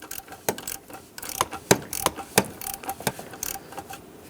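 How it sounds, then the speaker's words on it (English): A socket and ratchet tightening the oil filter cap on a Dodge Grand Caravan, giving a quick run of sharp, close ratcheting clicks in uneven bursts. "I'm going to use my socket and ratchet to bottom this out"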